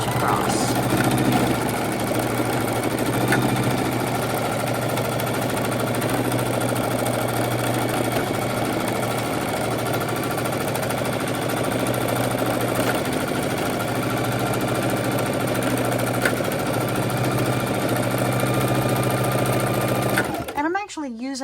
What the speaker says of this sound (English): put it under the neck of your sewing machine, and stitch across.